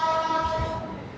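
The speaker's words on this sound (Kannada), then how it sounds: "ಹಾಲ್ಟ್ ಆಗಿ ಡಿಪಾರ್ಟ್ ಆಯ್ತು ನೋಡ್ರಿ ನಮ್ದು ಶತಾಬ್ದಿ ಎಕ್ಸ್ಪ್ರೆಸ್ 12025" Shatabdi Express 12025 pulls out of Solapur station: a steady rolling rumble with a sustained tonal hum above it, close and fairly loud, lasting only a moment.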